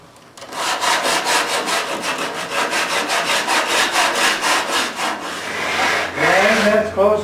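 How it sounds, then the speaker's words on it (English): Sandpaper scrubbing an antique oak table top during restoration, a steady run of rapid back-and-forth strokes close by, loud and continuous, with a brief faint voice near the end. "sand out a little bit."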